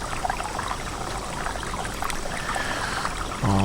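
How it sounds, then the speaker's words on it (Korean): A small 3D-printed waterfall in a home aquarium, with water trickling and splashing steadily into the tank, a continuous close wash of running water that swells slightly near the end. "여러분들 오늘 제가 만든 미니 폭포 어떠셨나요?"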